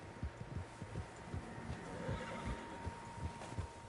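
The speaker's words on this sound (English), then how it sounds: "Tracks. Horses, quite a few of them." Horses in the western game Red Dead Redemption 2, a faint whinny over soft rhythmic hoof clops and low outdoor ambience, at a distance.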